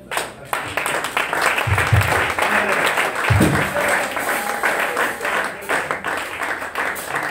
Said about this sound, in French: Avec les acclamations au Seigneur.